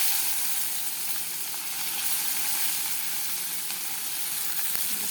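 Chopped onion hits hot oil left from frying fish and gives off a steady, close hiss of sizzling that continues evenly throughout, with no voices.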